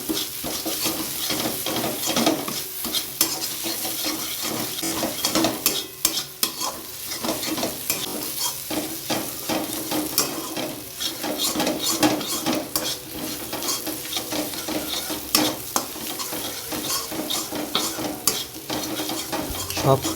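Tadka spice mix stirred and fried in a pan, a steady loud sizzle with constant scraping and clinks of a spoon against metal throughout.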